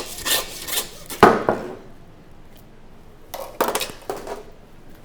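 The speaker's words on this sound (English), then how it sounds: "So once we get that cut, grab our handsaw." A handsaw works through a leg of lamb at the sirloin on a butcher's block, giving a few short rasping strokes with sharp knocks, close and fairly quiet, separated by pauses.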